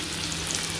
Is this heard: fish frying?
yes